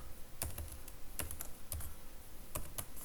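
Computer keyboard typed on while writing C# code, with short bursts of clicky keystrokes separated by brief pauses, close and quiet, no speech.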